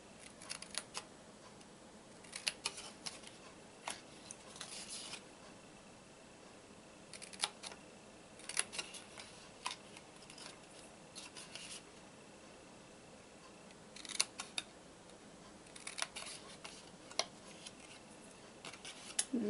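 Scissors snip small notches out of a paper backpack-style treat box, giving sparse, crisp clicks and cuts in scattered clusters close by against a quiet background.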